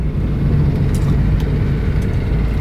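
Porsche 944 16-valve engine rumbling at a steady cruise while driving, a low, continuous breathing drone with faint intake clicks above it and no voices.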